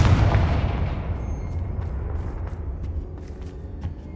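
A Confringo blasting spell in Hogwarts Legacy goes off as a loud, booming explosion at the start, then a rumbling decay fades away beneath faint scattered clicks and ticks.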